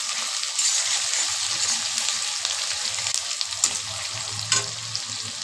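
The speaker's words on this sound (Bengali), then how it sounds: "ভালো করে ভেজে নেব।" Chopped tomato hits fried onion and small cardamom in a pan for a desi-style chicken gravy, giving a continuous loud sizzle with occasional stirring clinks.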